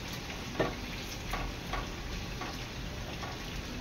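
Sweet gulgule fritters deep frying in oil, a soft continuous bubbling sizzle with a few faint ticks and light clinks, fairly quiet.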